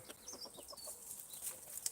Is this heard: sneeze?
no